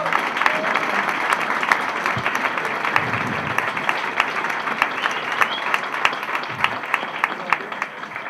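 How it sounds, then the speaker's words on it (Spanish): Sustained applause from an audience at a talk on workers and regional integration, steady and dense clapping throughout, fairly close and loud with no speech over it. "Creo que le podemos dar un fuerte aplauso."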